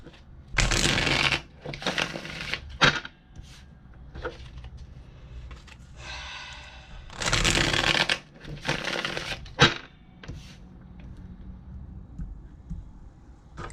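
Tarot cards are shuffled in several bursts of riffling and sliding. Louder runs come early and midway, with softer handling and card taps between them, all close up and with no talk.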